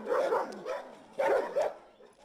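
A K9 unit dog barks during anti-poaching training for black rhino protection. There are about four sharp, loud barks in two pairs, close by, with no talk over them.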